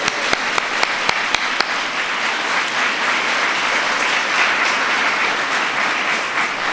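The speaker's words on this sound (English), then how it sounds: "So let's give them a round of applause." Applause erupts from an audience at a White House holiday decorations preview, a few sharp early claps quickly swelling into loud, steady clapping that continues throughout.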